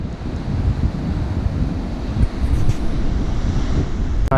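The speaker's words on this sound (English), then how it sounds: "Down there, a beautiful beach. The Atlantic rolling up onto it." Atlantic surf rolls onto an island beach below, heard as a continuous rushing wash mixed with heavy wind buffeting the microphone, with no voices present.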